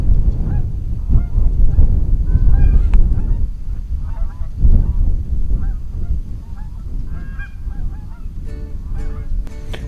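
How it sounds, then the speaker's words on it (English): Geese honk loudly and repeatedly as a flock comes in to land on decoys during an early-season goose hunt in North Dakota. The overlapping calls are close and continuous with no speech. "The geese landed right on our decoys"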